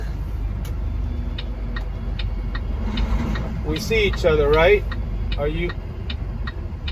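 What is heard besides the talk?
expedited truck approaching and idling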